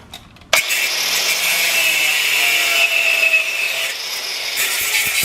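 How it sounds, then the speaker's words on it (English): A bolt head is cut off with a power tool in a home workshop during a belt grinder build, giving a loud, continuous close-up cutting whine that starts abruptly and runs steadily to the end. "All I'm gonna do is cut the head off of it."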